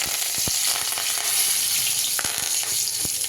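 Curry leaves and urad dal sizzle and crackle in hot oil with a couple of garlic cloves, a dense steady frying hiss close up with sharp pops scattered throughout and no talking.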